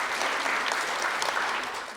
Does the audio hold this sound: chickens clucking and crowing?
no